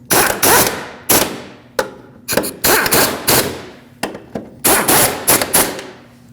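An impact tool snugs up the strut mounting nuts on a Lexus IS250, a series of loud, close, rapid rattling bursts separated by short pauses.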